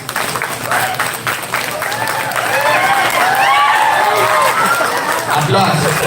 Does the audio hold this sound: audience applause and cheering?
yes